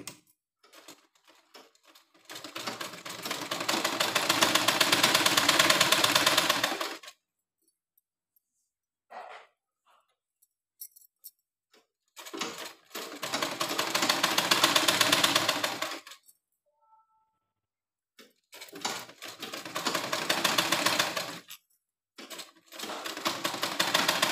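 A sewing machine stitches around the lining of a blouse in three long runs of fast, even whirring, each separated by short quiet pauses.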